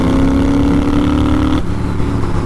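A Triumph Scrambler motorcycle's engine runs steadily while riding, a close, loud droning hum that holds a constant pitch and then shifts slightly partway through, with no talking.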